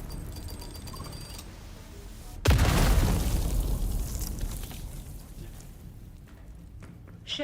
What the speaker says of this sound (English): This is a bomb.